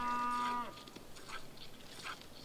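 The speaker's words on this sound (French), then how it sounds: "Tu viens de traire une vache." A cow lets out a single drawn-out moo while being milked with a wooden bucket in the video game Project Zomboid, a clear tonal low call that breaks off after half a second into soft game ambience.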